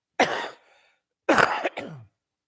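Two bursts of coughing, close and fairly loud, the first a single harsh cough, the second a longer fit ending in a throaty rasp.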